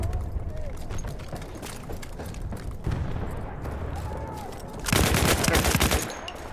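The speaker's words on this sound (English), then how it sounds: "Who's shooting me?" Rapid bursts of gunfire from the World War I shooter Battlefield 1, with crackling shots throughout and a loud, dense surge of firing near the end, and brief voices in the mix.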